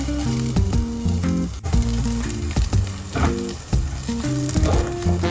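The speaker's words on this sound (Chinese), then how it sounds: "然后炒这个腊肠" Chinese sausage stir-fries in its own fat in a pan with no added oil. It sizzles and crackles steadily, with stirring strokes, under music playing in the background.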